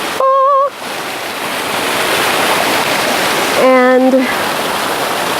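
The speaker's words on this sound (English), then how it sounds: "A little waterfall." A small waterfall off a trail in nature gives a steady broadband rush of falling water throughout, with brief speech at the start and again near the end.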